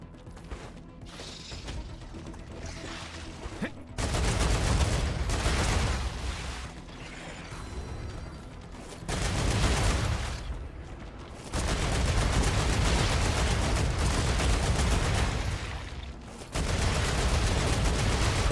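Sustained bursts of rapid video-game gunfire in alternating loud stretches with short lulls between them, dense and close with mechanical clatter. No one speaks.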